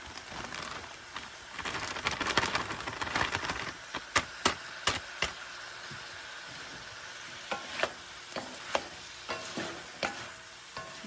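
Vegetable mix sautéing in a pan for a seafood dish with corn, onion and garlic: a soft steady sizzle runs under sharp scattered clicks and scrapes of stirring, louder early on, then sparser utensil taps against the pan.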